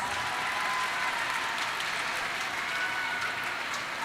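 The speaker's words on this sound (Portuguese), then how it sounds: "queria uma salva de palmas para elas" An auditorium audience giving teachers a round of applause at an education event, a continuous even roar of many clapping hands, fairly distant and without talk.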